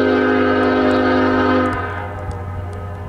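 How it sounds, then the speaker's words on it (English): A loud train horn blares with strong sustained tones for about a second and a half, then cuts off, leaving the low rumble of the train rolling on beneath. "That's a loud horn."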